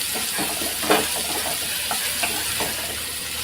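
Onion and curry leaves fry steadily in a pan for a Maharashtrian monsoon vegetable dish, a constant close sizzle and hiss with a few soft stirring scrapes and no talking.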